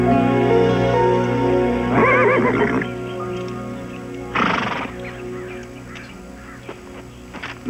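A horse whinnies loudly twice, the calls close and prominent over a steady low background hum, followed by faint knocks.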